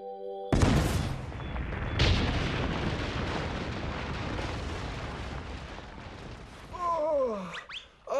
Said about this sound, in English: Ready for the explosion?